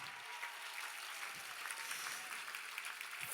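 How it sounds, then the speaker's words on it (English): Audience applause at a benefit fundraiser, fairly faint and continuous, with a few sharper claps standing out. "Give yourselves a huge round of applause"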